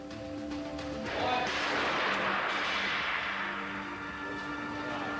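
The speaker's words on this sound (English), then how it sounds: "For every shot fired by the cannon" A heavy cannon shot in a tornado impact-testing lab booms out, a broad blast that rolls and decays slowly over several seconds against a faint humming background.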